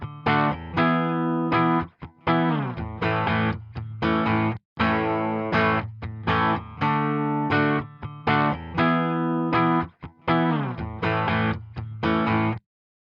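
An electric guitar plays a series of clean, bright chords and picked notes through a Fender amp emulation plugin, with brief pauses between phrases.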